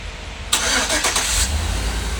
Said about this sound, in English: Including remote start.